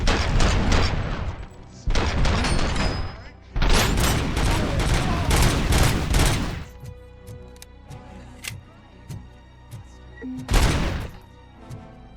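Loud, close gunfire from the video game Robocop Rogue City: dense bursts of rapid shots with heavy booms over several seconds, then sparser single shots and a final blast.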